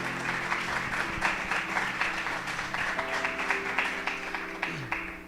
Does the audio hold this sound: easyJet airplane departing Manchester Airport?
no